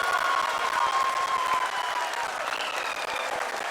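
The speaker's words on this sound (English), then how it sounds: "People are applauding." An audience applauds during the broadcast of the Chandrayaan-3 lunar landing, a sustained wash of crowd clapping, strongest at the start and easing slightly, with a faint thin tone riding above it.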